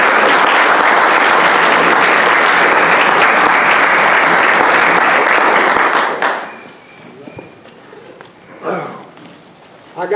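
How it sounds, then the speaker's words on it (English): Loud, dense applause from a candidate forum audience fills the first six seconds, then cuts off sharply, leaving quiet room noise, footsteps and faint murmured talk. "let's give them one more round of applause"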